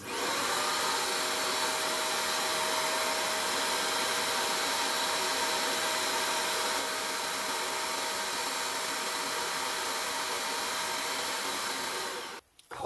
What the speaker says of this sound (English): Next stage, spray some more chemical inside. This is brake cleaner, as I mentioned, I'm using.